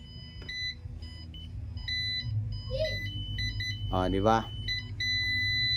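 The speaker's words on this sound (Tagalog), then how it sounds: "Ayan, nagbi-beep siya." A GEM 3D Ground Eye magnetometer gives off bright electronic beeps, first in short repeated pulses and then as a longer steady tone, while a person talks nearby.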